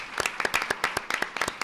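Scattered audience clapping at an academic colloquium on migration at the Universidad Veracruzana, a sparse group of distinct claps in an uneven rhythm, fairly close.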